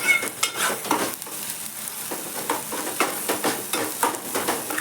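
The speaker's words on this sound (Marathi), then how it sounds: "छानपैकी हा 2 मिनटं भाजून घ्यायचा हा, जेणेकरून तो मसाला भाजला जाईल." Tomato masala for a dhaba-style egg curry fries in a pan, a steady sizzle broken by repeated scraping strokes of stirring, close and moderately loud with no talking.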